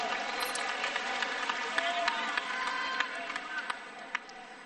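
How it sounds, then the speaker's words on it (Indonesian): Crowd applause at an Indonesian political speech, with dense steady clapping and scattered sharper claps, held at a moderate level throughout. "Boleh tepuk tangan buat semua yang hadir di sini."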